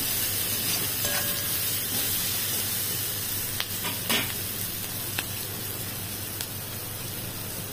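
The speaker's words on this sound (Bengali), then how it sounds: "আর একটু ভাজা হোক, জিরে ধনের গন্ধটা চলে যায়।" Country chicken with potatoes fries in a pan with cumin and coriander powder, a steady, dense sizzle broken by a few sharp stirring clicks and scrapes.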